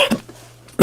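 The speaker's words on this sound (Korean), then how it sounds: "말을 많이 했더니 기침 많이 나네요." A man coughs in a short burst, a brief harsh cough at the start followed by a louder one at the end, with quiet room tone between and no speech.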